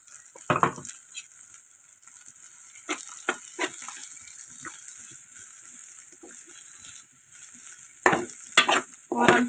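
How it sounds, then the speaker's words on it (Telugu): Coconut, dried chili and garlic being stirred into a cluster bean curry in a pan: a soft sizzle beneath intermittent spoon scrapes and clinks, heavier bursts of stirring at the start and end. "కూరంతా కలిసే వరకు కలయి పెట్టుకోవాలి"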